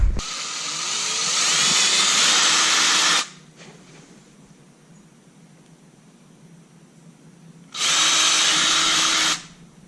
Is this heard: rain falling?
no